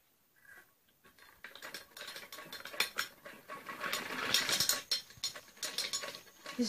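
A sewing machine stitches elastic onto a trouser waistband with quick, uneven mechanical clicking and whirring. It starts almost silent and builds into denser, louder bursts, close by, with no talking.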